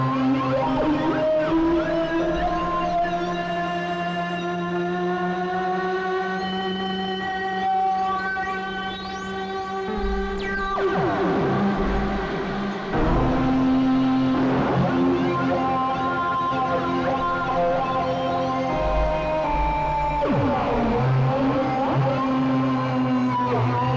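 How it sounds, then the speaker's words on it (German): Spacey electric guitar tone synthesized with Bitwig's Polymer synth, playing continuous sustained, gliding notes with a swelling, whale-like quality, loud and unbroken throughout. "wie man mit dem Polymer eine sehr abgespacede, spacige E-Gitarre bauen kann"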